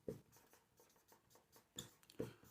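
Faint chalk or marker strokes sound on a board while a maths problem is worked out, giving soft, scattered taps and scratches at an uneven pace in a quiet room.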